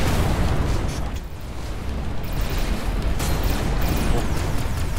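Enemy ships blowing up in the space shooter game Everspace 2, a dense roar of overlapping explosions and bursts, loud and continuous with a brief dip before the blasts swell again.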